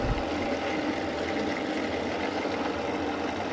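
A metal lathe takes a 0.050-inch cut on a wheel arbor at 293 RPM with 3.5 thou per revolution feed, giving a steady, loud, continuous rumbling drone with a chattering roughness and no pauses.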